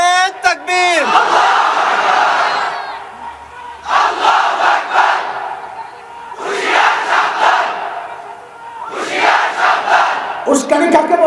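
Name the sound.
crowd chanting takbir response at a rally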